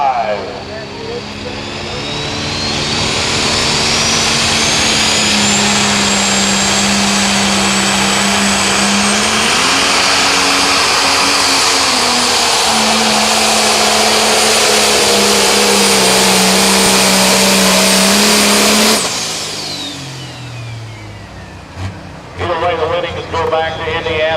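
Pro stock pulling tractors roar at high revs during a night tractor pull in Mound City, Missouri, a loud sustained engine drone that climbs and holds for about twenty seconds before cutting off abruptly, followed by scattered crowd and track noise.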